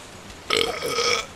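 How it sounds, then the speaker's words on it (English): One loud, drawn-out burp from a person, close and alone over quiet background noise. "Got a few burps here."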